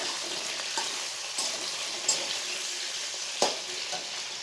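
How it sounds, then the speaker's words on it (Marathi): Potatoes and green chilli fry in oil, a soft, even sizzle with a few sharp stirring scrapes at intervals, quiet and close, no talking. "तेलात टाकल्यानंतर मिक्स करून घ्यायचा।"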